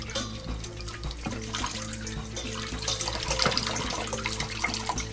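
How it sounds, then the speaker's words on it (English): A lobster tail being rinsed under a running kitchen tap, with a steady close gush of water and some splashing and dripping throughout. "And then we're gonna rinse it off with some fresh"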